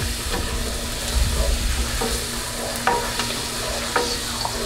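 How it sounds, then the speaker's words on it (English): Asparagus sizzles steadily in a hot frying pan while a teaspoon stirs it, scraping and clinking against the pan now and then. The sound is close and continuous, with no talking. "A little teaspoon stir."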